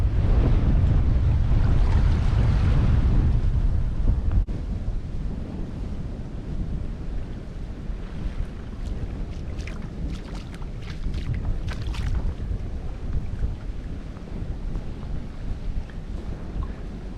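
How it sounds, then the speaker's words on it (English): Strong wind buffeting the microphone with a low roar at Elafonisi Beach, Crete, steady waves washing in the background, gusts easing slightly after the first few seconds. "A server at the restaurant we went to up in the village said it's always windy here."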